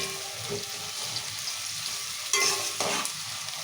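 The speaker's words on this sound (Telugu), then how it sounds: "ఉల్లిగడ్డ టమాటా ఇట్లా మంచిగా వేగింది" Onion and tomato fry in a pan for a masala brinjal curry, giving a steady close sizzle with scraping stirs and a few louder clatters of the spoon against the pan.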